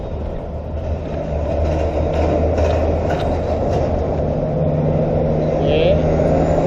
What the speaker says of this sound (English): We're going to put the grinder on.